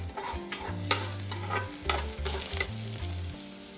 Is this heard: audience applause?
no